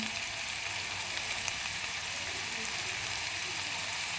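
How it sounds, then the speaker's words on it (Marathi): Onion or tomato paste sautéing in oil, giving a steady, close sizzle with a soft crackle that holds at an even level throughout, with no voices. "पेस्ट बनवतो कांद्याची किंवा टोमॅटोची छान असे तेल सुटेपर्यंत परतून घ्यायची"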